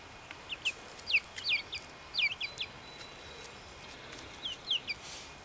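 Young chickens out on their first day outdoors at a farm give faint, scattered clucks and chirps in short bursts across the clip. The backdrop is a quiet, airy outdoor hush, and no voices are heard.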